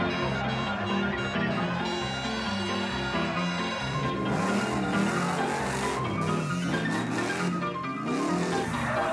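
A car drifts with screeching, skidding tires through most of the run, the squeal swelling and bending in pitch after the midpoint, mixed under loud engine noise and a steady music bed.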